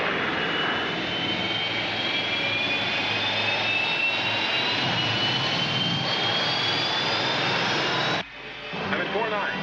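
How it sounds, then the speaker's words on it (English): Rescue spaceship moving, a sound effect in a space theatre show: a loud, sustained jet-like roar with a slowly rising whine that cuts off abruptly near the end, followed by a brief voice. "Rescue ship moving."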